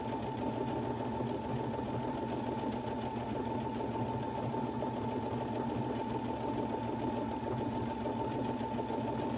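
A Brother Innovis F410 sewing machine stitches programmed letters on its own, a steady close mechanical whir with rapid needle ticking that runs unbroken throughout.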